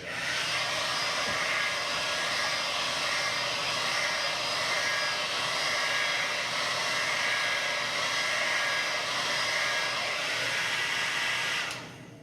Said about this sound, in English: go ahead and turn your hairdryer on high and just aim it at this area